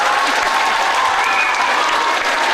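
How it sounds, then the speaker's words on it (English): A lecture audience at a painting demonstration gives artist George Rodrigue a round of applause, a dense, steady wash of many hands clapping that fills the room without a break. "George a round of applause."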